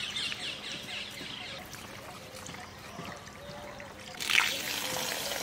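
Rice being washed in water by hand for chicken biryani, a soft continuous trickling and sloshing that rises briefly into a louder splash near the end.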